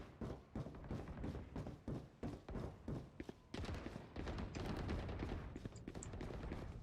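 Rapid gunfire in the video game Valorant during a tournament semi-final, bursts of quick, punchy shots in a steady rhythm, then a denser fusillade with metallic clinks, loud and close with no talk over it.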